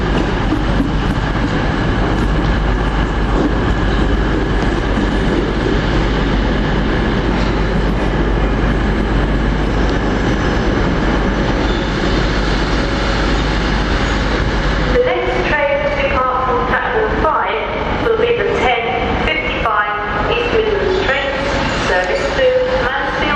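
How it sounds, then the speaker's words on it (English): A train from Mansfield Woodhouse approaches on the line near Derby with a loud, steady rumble that shifts to sharper rhythmic clatter late on, while a voice talks over it. "Okay, we've got a train coming up here"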